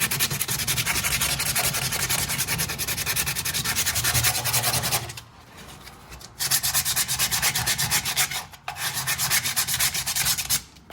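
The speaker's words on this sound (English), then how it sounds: "So now I'm gonna take the sandpaper, like, see how this is kind of rough or whatever." Sandpaper rubs over a BMW E46 M3 exhaust tip fitted to an E36, a close, steady, rough scratching in long strokes, with brief pauses before the sanding resumes.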